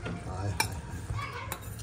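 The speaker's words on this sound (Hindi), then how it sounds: "बस खाली घी का तड़का" Ghee tempering in a pan on a stove gives a soft steady sizzle, with occasional metallic clinks of a utensil against the pan, close by and low in level.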